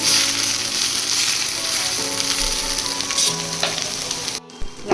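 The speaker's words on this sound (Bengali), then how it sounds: "এবার আমি ভাজবো" Lightly steamed bottle gourd fries in ghee with a loud, steady sizzle and occasional stirring scrapes, the sizzle cutting off abruptly just before the end.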